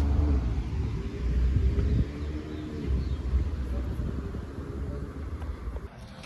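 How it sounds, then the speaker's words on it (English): Steady low rumble of a new car cruising along, heard from inside the cabin, with broadband road and wind noise holding fairly even throughout and a brief dip near the end. "We are trying out Kevin's new beautiful car."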